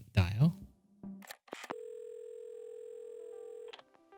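Phone in the video game Assemble With Care, with a few short button beeps followed by a long steady dial tone, then a brief click as it cuts off; a soft voice and rustle come before it.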